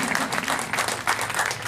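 Short burst of audience applause at a large Hindi poetry gathering (kavi sammelan) during a Hindi festival in Datia, a brief clatter of many hands under a lively hall.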